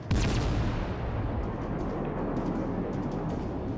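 Naval gunfire in World of Warships: Legends, a heavy opening boom from a ship's guns followed by a long rumbling decay, loud and close with no talk.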